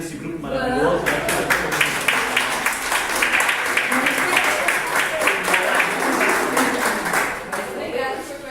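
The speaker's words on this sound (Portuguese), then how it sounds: "Vamos dar uma salva de palmas então desse grupo maravilhoso" A group at a community meeting gets a round of applause, the clapping steady and fairly close, with voices talking over it and a few laughs mixed in.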